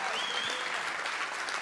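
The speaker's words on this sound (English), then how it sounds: "So can you please just clap for him?" An audience applauds Doug Newton with dense, steady clapping that holds at an even level for the whole stretch, close and continuous without a break.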